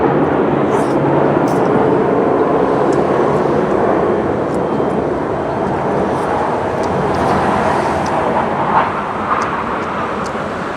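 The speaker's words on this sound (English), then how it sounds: "these airplanes are flying a lot today" A loud, steady roar of airplanes flying overhead, a broad engine rumble that holds through the whole stretch, with faint clicks and small sounds scattered on top.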